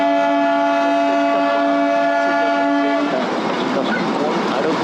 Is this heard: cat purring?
no